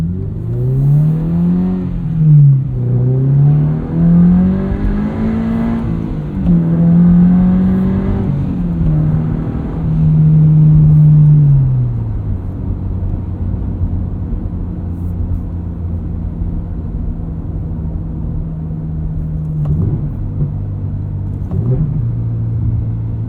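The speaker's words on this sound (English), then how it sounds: "if you just drag the clutch slightly on downshifts, you get some pops, and they're really satisfying." A 2022 Subaru BRZ fitted with an MRT muffler-free axle-back exhaust revs up and down through gears, then settles into a steady drone with a few sharp pops on downshifts near the end, heard loud and close from the cabin.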